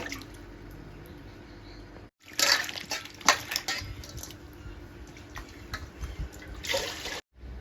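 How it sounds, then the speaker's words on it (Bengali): Rice is washed in water, giving close splashing, dripping and swishing bursts after a short pause, with a steady faint background hum and a brief drop near the end. "এবার আমি চালটা ধুয়ে নেব"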